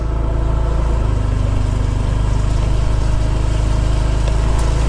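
A Honda Click motor scooter idles close by, a loud, steady low engine drone that holds unbroken throughout.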